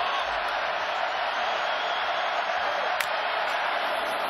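Clemson Tigers fans roar in a stadium during the Fiesta Bowl football game, a steady broad wash of crowd cheering that holds loud and even throughout, with a couple of brief sharp whoops rising above it.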